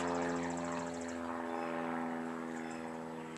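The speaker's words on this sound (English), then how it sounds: "airplanes are really loud sometimes" A steady propeller aircraft drones overhead, a continuous low engine hum with harmonic tones that fades slightly as it passes.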